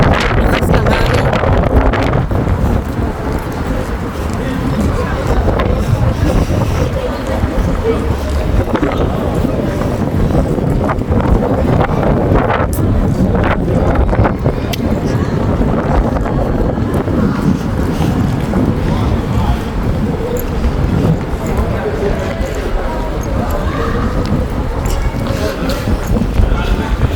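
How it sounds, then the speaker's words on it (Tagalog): Strong wind buffets the microphone outdoors at the Oceanogràfic in Valencia, Spain, a loud constant roaring rumble with gusty peaks that persists throughout, with a voice talking beneath it. "Lakas ng hangin."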